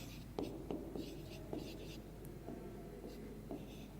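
Pen or chalk strokes scratch out writing during a fifth-grade math lesson on area and perimeter, a series of short, close scraping marks in an uneven rhythm over a quiet room, with faint low talk in the background.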